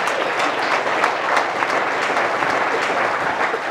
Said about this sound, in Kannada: ಮತ್ತೊಮ್ಮೆ ಜೋರಾದ ಚಪ್ಪಾಳೆಯೊಂದಿಗೆ ಅವರಿಗೆ ಅಭಿನಂದನೆಗಳನ್ನು ತಿಳಿಸೋಣ